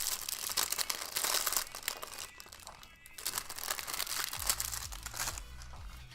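Close, continuous rustling and crinkling of materials while a crochet bat amigurumi is being made, dense and papery with brief pauses, a faint low hum entering near the end.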